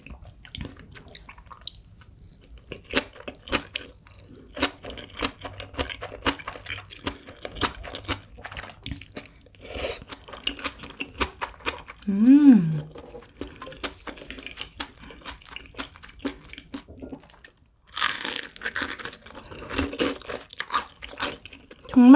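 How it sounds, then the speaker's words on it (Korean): Crispy Korean sweet and sour pork (tangsuyuk) is chewed up close, with scattered sharp crunches and wet smacking bites through a quiet room, a few louder bursts near the middle and toward the end. "탕수육이 진짜 바삭해요."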